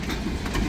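A freight train rolls past close by, a steady low rumble with rail clatter and broadband noise throughout, loud and continuous with no voices.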